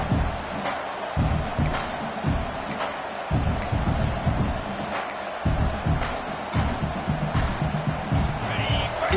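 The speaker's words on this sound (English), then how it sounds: "this crowd is fired up. Listen to this noise here." A large video game football stadium crowd in Madden roars and cheers continuously, with rhythmic stomping or chanting pulses throughout, loud and sustained.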